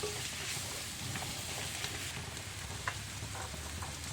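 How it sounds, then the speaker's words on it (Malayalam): Mackerel fried in oil in a pan gives off a continuous close sizzle and crackle with faint pops, steady throughout and unaccompanied by talk. "ഈ അയില വറുക്കുമ്പോൾ മുളക് പിടിക്കാത്തതിന് ഒരു പരിഹാരമാണിത് നമുക്ക് ഇതുപോലെ വറുത്ത് നോക്കാം"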